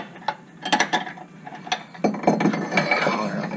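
Torque wrench ratcheting as it tightens a car tie rod to 44 pounds, a series of close, loud clicking pawl strokes in uneven bursts with no talking.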